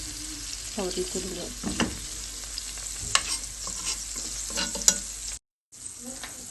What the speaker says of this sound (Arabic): بنقلب كده معلقه الدقيق لحد ما تاخد معانا اللون، لون مستكاوي.